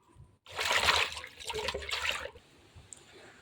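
Vegetable peels being rinsed in a bowl of water by hand, a burst of splashing and sloshing for about two seconds, then quieter trickling and dripping, close and moderately loud.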